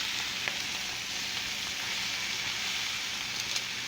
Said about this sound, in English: We're going to go ahead and put our peppers and tomatoes. Just dump them on top. Stir them around.